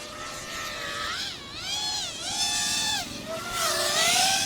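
An HGLRC Batman220 5-inch racing drone flies nearby with a high, buzzing whine whose pitch repeatedly swoops up and down as the motors throttle, steady and fairly loud throughout.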